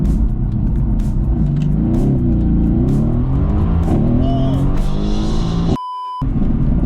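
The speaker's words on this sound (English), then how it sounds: "so we're gonna do a quick launch" A car engine roars loudly in a launch-control start, revving upward through gears with rising whine to 0-60 mph in 3.6 seconds, briefly interrupted by a sharp electronic beep tone.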